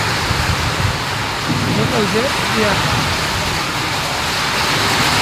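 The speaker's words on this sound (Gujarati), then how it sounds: "એ વીજ અને વરસાદ એવો પવન, એમાં કંઈ સાંભળવા નથી દેતા." Heavy rain and strong wind roar steadily near a hotel in Pali, a dense broadband wash throughout with a person speaking briefly over it; no distinct thunder crack stands out.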